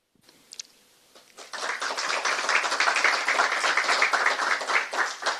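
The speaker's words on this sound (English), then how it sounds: "An applause for you." Conference audience at a project's final event bursting into applause for a speaker named Pablo, starting after a few scattered claps and swelling into sustained, dense clapping that holds steady to the end.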